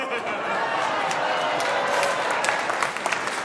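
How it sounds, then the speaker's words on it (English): Polite golf clap from a studio audience at a comedy debate show, a steady patter of scattered hands with faint crowd murmur throughout, moderately close and continuous with no voices on top. "There's some nice golf clap going around the room."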